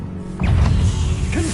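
An Accio summoning charm cast in Hogwarts Legacy, a quick whooshing burst with a swirling, rising magical shimmer, short and close, ending in a brief chiming flourish.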